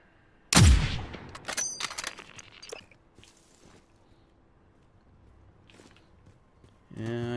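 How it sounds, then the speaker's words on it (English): Gunfire in Modern Warfare Warzone Plunder at night: a loud, close blast opens a short burst of rapid shots with fading echoes, then quieter scattered sounds and footsteps before another burst near the end. "I hear gunshots."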